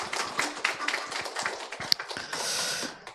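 A church congregation applauds in thanks, a dense patter of many hands clapping close by for about three seconds, swelling to a steady wash before fading out.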